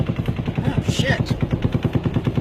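Rapid, evenly spaced bursts of automatic gunfire during the Las Vegas shooting roll on without a break at a distance, with voices mixed in underneath.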